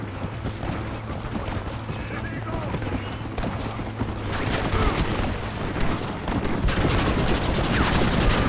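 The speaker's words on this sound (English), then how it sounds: "that bolt rifle is badass" Bolt-action rifle fire in Red Dead Redemption, sharp reports scattered through a dense, steady din of battle noise, with a voice talking over parts of it.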